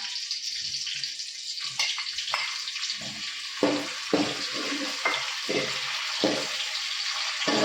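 Onions fry in butter in a pan, sputtering with a light, close sizzle punctuated by a string of scraping and clattering stirs at an uneven pace, with no one speaking.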